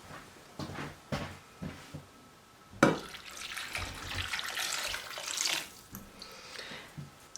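About one and a half cups of water poured into a pot of frozen cranberries: a quiet clatter first, then a close, splashy stream that swells for a few seconds before tapering off.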